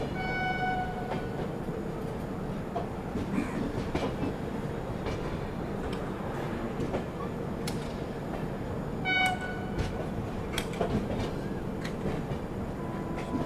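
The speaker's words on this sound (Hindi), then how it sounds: "बाकी वहाँ से कोई तो ट्रेन अराइव कर रही है।" An Indian Railways train arrives at a station, a steady loud rolling rumble with rail clatter throughout and brief horn-like tonal blasts near the start and again around the middle, with no voices.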